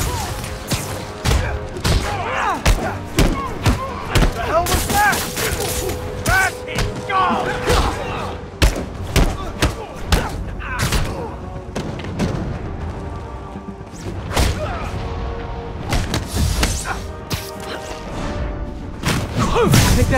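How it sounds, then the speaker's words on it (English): Bomb explosions in the Marvel's Spider-Man video game, a dense series of booms and sharp blasts mixed with gunfire-like bursts and clanking action sounds, loud and continuous with voices in the mix. "I guess bombs are part of Willie's getaway plan."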